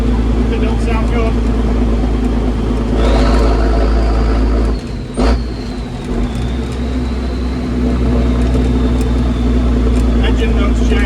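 A loud engine of an old Reo car runs rough and unevenly with a droning, uneven note and a brief sharp knock midway; voices talk faintly underneath.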